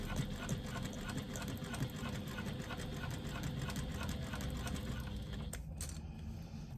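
A sewing machine stitching a leather clutch strap, a steady rapid mechanical chatter running continuously at close range, ending with a couple of sharper clicks as the stitching stops.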